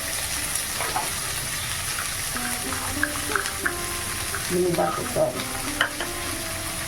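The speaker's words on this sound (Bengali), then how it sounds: "কড়াতে পেঁয়াজটা দিয়ে দিচ্ছি পেঁয়াজ কলিটা দিয়ে দিচ্ছি" Onions and onion stalks sizzle steadily in a wok as they are stirred, with scraping and clattering spatula strokes, close and continuous, and no talking.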